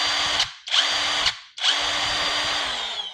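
A budget Cerycose impact wrench spins at top speed in three bursts: two short whirring runs with brief gaps, then a longer sustained one, loud and close with no talk.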